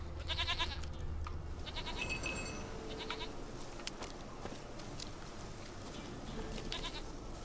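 A goat bleats in The Witcher 3 during a wild goat hunt, a few short bleats near the start and middle over quiet game ambience, with no talk.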